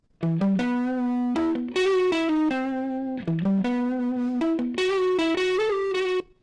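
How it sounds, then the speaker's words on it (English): A harsh tone with raw clipping distortion plays a choppy melodic phrase of sustained notes, buzzing and gritty with clipped overtones, repeated twice. "this is just raw clipping distortion"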